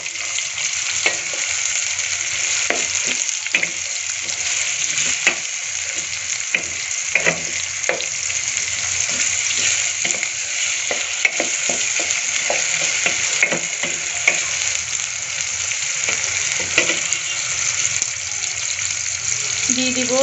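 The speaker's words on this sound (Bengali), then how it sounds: "এখন আমি এগুলোকে ভালোভাবে নেড়ে নেব।" Pieces of chicken for a chicken roast are being stirred as they fry in a pan, giving a loud, steady sizzle with repeated scraping clicks from the stirring utensil, close up, and no talking.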